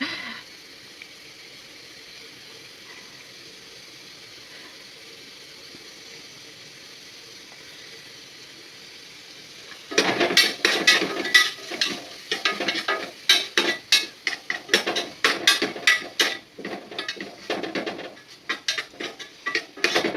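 Raw masala paste hits hot oil in a pan for a quick rice dish, a low steady hiss for about ten seconds giving way to loud, crackling sizzle with dense spitting pops and stirring scrapes, close and continuous.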